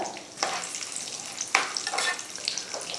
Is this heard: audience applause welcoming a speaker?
no